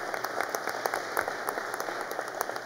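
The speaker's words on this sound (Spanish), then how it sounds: "un fuerte aplauso para Cristo" Audience applause at a Peruvian government ceremony on transferring funds to regional and local governments, called for in honor of Christ; a steady patter of clapping from a crowd, moderately distant and fairly soft, with no talk over it.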